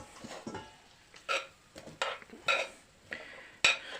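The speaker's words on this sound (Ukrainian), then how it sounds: "половинку жареної цибульки я висипаю у фарш" Fried onion tipped from a pan into a bowl of minced meat for vegetable meatballs, giving a few soft scraping and clinking strikes spaced irregularly, near and moderately loud with no voices.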